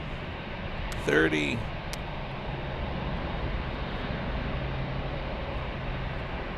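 A DHL cargo airplane at Frankfurt airport produces a steady, distant jet-engine roar that continues throughout, with a brief spoken voice near the start.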